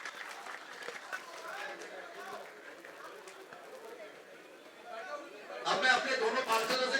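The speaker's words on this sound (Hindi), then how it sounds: "जोरदार तालियों से शाहदरा जिले में अभिनंदन हो रहा है।" A crowd at a political rally in Shahdara district applauds from a distance, with faint murmuring chatter at first, then clapping swelling louder near the end.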